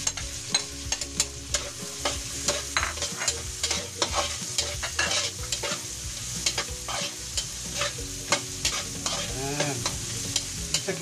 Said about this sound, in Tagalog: Yan, halo-halo lang po ang ating po sibuyas.